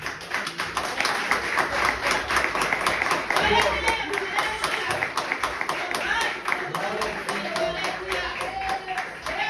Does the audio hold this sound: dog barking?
no